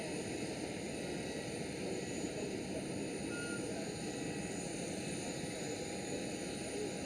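An Icelandair Boeing 767 at Amsterdam Schiphol gives a steady, broad engine roar at moderate distance, lasting unbroken throughout with a few faint tonal whines riding over it.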